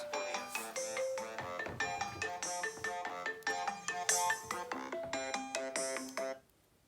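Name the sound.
phone ringtone from an incoming call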